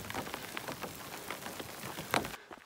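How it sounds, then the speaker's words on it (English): Hail pelting down on hikers on the Colorado Trail, a dense, close patter of small icy impacts rattling steadily on gear and ground, with one sharper louder hit just before it cuts off. "I'm just like standing there getting pelted with ice balls."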